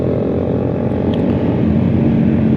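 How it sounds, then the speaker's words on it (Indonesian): A Honda CBR250RR motorcycle engine runs with a steady, loud, continuous drone close by, holding an even low rumble without clear revs or pauses. "Soalnya suara motor gede tuh enak, sumpah enak."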